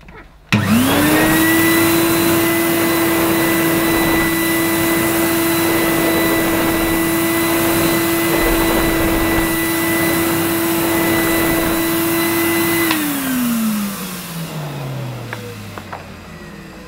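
A Numatic Henry vacuum cleaner in cream and brown drones steadily and loudly while being pushed across a Saxony carpet, then its motor winds down with a falling whine at the end.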